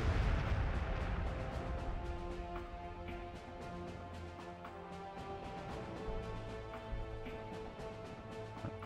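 Gunfire and explosions in the Warhammer 40K Gladius strategy game come as a dense barrage of rapid repeated pops and booms over a low rumbling bed, steady and moderately loud throughout.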